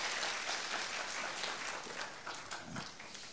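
Applause for students who opened water at a youth camp talk, a quiet, dense patter of many hands clapping throughout, fairly distant and uneven.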